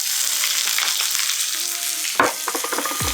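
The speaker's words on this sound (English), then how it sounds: "So our wok is smoking. We're going to go in with some onions." Onions sizzling in a smoking-hot wok, a steady loud frying hiss with clattering stirs and scrapes of the utensil against the metal, a sharper toss near the end.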